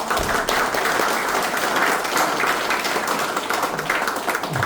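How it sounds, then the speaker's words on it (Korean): A lecture hall audience breaks into loud, dense, sustained applause to welcome a lecturer to a history lecture, with many hands clapping evenly throughout and no talk over it. "큰 박수로 모시겠습니다"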